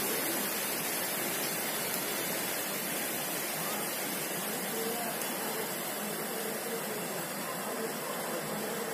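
A mountain waterfall on the Gangotri to Kedarnath pilgrimage route rushes in a constant, loud, broadband roar that stays steady and unbroken throughout, with no other sounds standing out.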